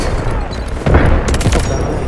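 Loud, dense explosive booms and rumbling bursts fill the clip, a heavy grenade blast crashing in partway through amid ongoing gunfire-like noise, in the shooter game Delta Force Mobile.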